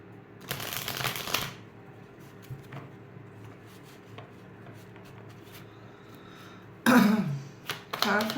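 Tarot cards are shuffled in a short riffle burst, then quiet handling follows before a second louder shuffle near the end, close and soft.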